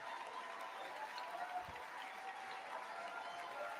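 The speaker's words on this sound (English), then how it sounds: "I can do without all this unnecessary clapping." Audience applause during the State of the Union address, heard as a steady, distant wash of clapping that continues without a break.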